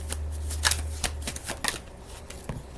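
Tarot cards being shuffled by hand, with quick riffles and sharp flicks of the deck close by, a few cards slipping loose, no voices heard.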